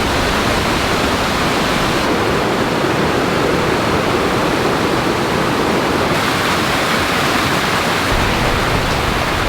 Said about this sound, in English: big waterfall all coming down the cliff there, and we've got a massive swimming hole down the bottom